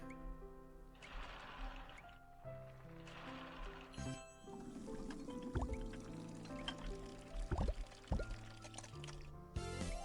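In a ramen restaurant video game, water pours and drips in bursts, mixed with game chimes and small clicks, fairly faint and without speech.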